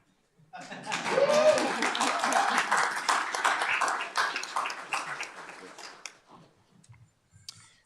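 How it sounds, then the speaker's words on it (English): Family members clap for a new employee being introduced at a city council meeting, a sustained round of applause from a small room-sized crowd that swells quickly and then tapers off into a few scattered claps. "Family members can clap."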